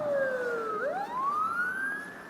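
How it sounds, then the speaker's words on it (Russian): An ambulance siren wails on a street in central Yakutsk, a loud wailing tone that sweeps down and then rises again as the vehicle passes close by, heard alone with no voices. "уже скорая, смотрите, едет."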